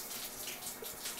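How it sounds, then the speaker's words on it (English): Shower water sprays steadily from a head in a doorless, splash-panel enclosure, a continuous hiss and patter heard up close on its own, without talk. "Donnie, will you give us some feedback on how's the shower"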